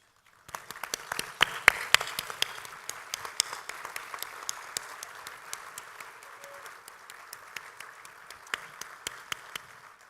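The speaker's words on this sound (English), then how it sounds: "we want to give you all a round of applause" Scattered applause for legacy sponsors standing at a 2022 business ethics awards event, many individual claps ringing out over a soft crowd wash, steady for about ten seconds with no talking.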